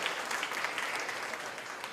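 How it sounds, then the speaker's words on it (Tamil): After a stage performance at a festival, an audience gives a steady round of clapping, fairly soft and distant, with no voices over it. "மீண்டும் ஒரு கைத்தட்டல்"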